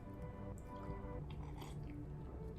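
Close, quiet chewing and crunching on crispy vegan chik'n taquitos, with soft wet squishy bites over a faint steady background hum and no talk.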